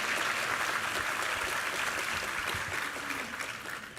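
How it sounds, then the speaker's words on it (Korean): A church congregation claps steadily through a Sunday worship service marking the church's 15th anniversary, a dense, continuous wash of applause that fills the room and tapers slightly toward the end. "우리 하나님께 감사와 영광의 박수를 드리겠습니다."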